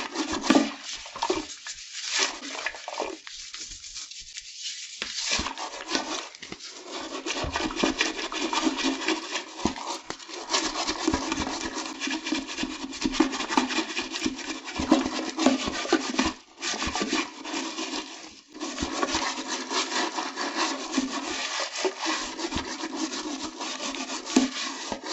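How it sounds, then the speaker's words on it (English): Toilet scrubbed with baking soda and hydrogen peroxide: continuous close, gritty brushing and rubbing strokes that run steadily throughout with only brief pauses. "I'm going to scrub the whole back as well."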